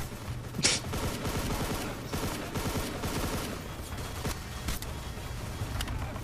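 Rapid gunfire bursts from the video game Hunt Down The Freeman, steady volleys with a sharp crack standing out near the start, loud and continuous without any talk.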